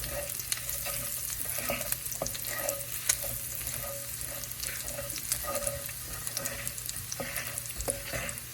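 Garlic sizzles steadily in a pan while a spoon stirs it, bringing rhythmic soft scrapes and clinks against the metal, close up and alone.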